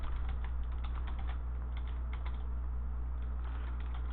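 Steady, rapid tapping on a computer keyboard, close and fairly quiet, with uneven key clicks over a constant low hum and no voices.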